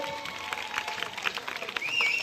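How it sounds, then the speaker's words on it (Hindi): Crowd applauds to welcome Pappu Kalani at a political campaign event, a fairly soft patter of clapping with voices and tonal noise mixed in, rising slightly toward the end. "आदरणीय पप्पू कालानी जी के लिए जोरदार तालियों से स्वागत।"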